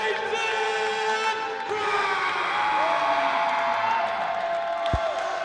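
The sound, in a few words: wrestling crowd cheering for Jayson Krash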